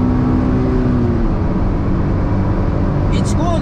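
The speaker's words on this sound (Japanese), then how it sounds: "もうエンジン音切れないでしょ。だからずっと踏んでるの分かると思います。" A Honda S660 Modulo X Version Z held at full throttle on a race circuit, its engine a continuous, unbroken drone that climbs steadily in pitch without a lift.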